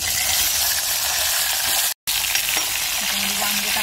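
Eggplant pieces fry in hot oil seasoned with cumin and mustard seeds, making a dense, loud sizzle with stirring that breaks off for a brief moment of silence and then carries on.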